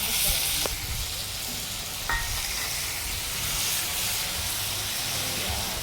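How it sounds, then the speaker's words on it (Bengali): Raw spices with cumin and coriander sizzling in hot oil for a village-style maach bhapa, a soft, even hiss heard nearby, with a couple of faint clinks from a utensil. "এখন আমি কাঁচা মশলাটা দিয়ে দিচ্ছি তেলের ভিতরে"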